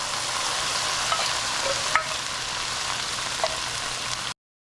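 Petite diced tomatoes in their juice go into a pan for creamy honey chicken and pasta, making a continuous close sizzle with a few faint stirring clinks, no voices, before the sound cuts off abruptly.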